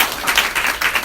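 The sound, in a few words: audience applause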